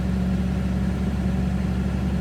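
A 2006 Cummins diesel engine runs at a steady, raised speed with a loud, constant low drone and a firm rumble, and no clear rise or fall in pitch.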